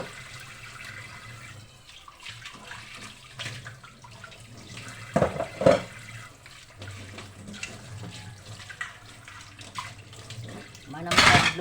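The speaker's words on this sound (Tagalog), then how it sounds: "Hugas at atong mga ginamitan." Used dishes being washed at a kitchen sink under a running tap, with water splashing and clattering intermittently and a louder burst near the end, under faint background voices.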